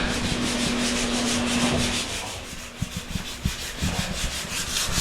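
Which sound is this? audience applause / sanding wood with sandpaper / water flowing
sanding wood with sandpaper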